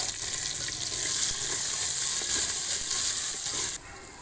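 Onions hit hot oil for arvi gosht, a dense, steady sizzle and crackle that holds evenly, then cuts off abruptly just before the end.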